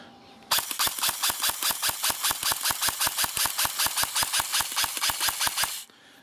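An airsoft gun with a GMP gearbox, a Kanzen high-torque motor and an 8.4-volt battery fires a fast, even full-auto burst of about thirty sharp cracks in five seconds, loud and close, then stops.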